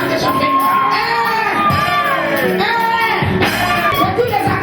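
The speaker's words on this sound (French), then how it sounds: "J'ai dit les acclamations avec l'esprit" A church congregation shouts acclamations together, a dense, continuous wash of many voices rising and falling with overlapping cries and yells, loud and close throughout.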